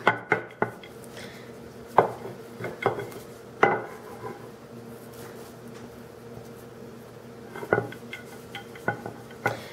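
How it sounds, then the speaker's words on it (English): Pita dough is rolled out into an 8 to 9 inch circle about a quarter inch thick, with scattered close knocks and clatter from the rolling pin and work surface between quieter stretches. No one talks. "flatten it out, and roll it into an 8 to 9 inch diameter circle"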